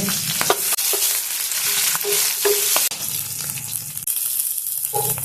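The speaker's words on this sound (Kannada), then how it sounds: "ಫ್ರೈ ಮಾಡ್ಕೊಳ್ಳೋಣ ಜೀರಿಗೆ ಹಾಕೋಣ ಬೀನ್ಸ್ ಇದಾವಲ್ಲ ಬೀನ್ಸ್ ಇರ್ತವೆ ಬೀನ್ಸ್ ಹಾಕೊಂಡು ಸ್ವಲ್ಪ ಹೊತ್ತು" Beans frying with cumin in a hot pan, a steady close sizzle broken by several scraping stirs, with no voices.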